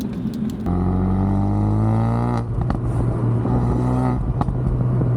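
A Ford Focus RS accelerating hard from inside the cabin, its engine note climbing steadily through the gears with brief dips at shifts, loud and close.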